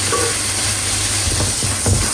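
A small pot of starchy pasta cooking water goes into a hot pan, giving a steady loud sizzle and hiss with a few scraping stirs near the end.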